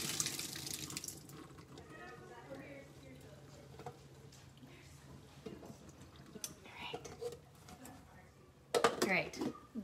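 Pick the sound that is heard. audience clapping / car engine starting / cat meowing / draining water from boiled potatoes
draining water from boiled potatoes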